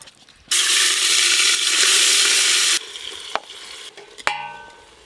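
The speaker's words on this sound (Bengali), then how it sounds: "তেল খুব ভালো করে গরম হয়ে গেল, এবার মশলা মাখানো খাসি মাংসগুলো কুকারে দিয়ে দেব।" Spiced goat mutton hits hot oil in a pressure cooker with a loud, steady sizzle that holds for a couple of seconds, then fades to a softer crackle with a few clinks of utensils against the pot.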